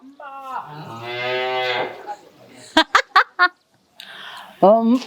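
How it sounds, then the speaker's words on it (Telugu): A cow gives a long, loud moo close by, followed by a few short sharp knocks and then the start of another moo. "ఆవు ఎలా అరుస్తుంది చెప్పు"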